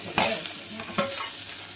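Onions go into a hot pan for gobi and fry with a close, steady sizzle, broken by two sharp bursts of frying as they are stirred or hit the oil.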